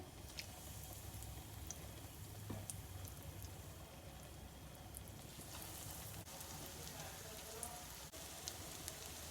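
Breadcrumb-coated potato donuts fry in hot oil with a steady, quiet crackling sizzle, even and continuous throughout, with occasional small pops.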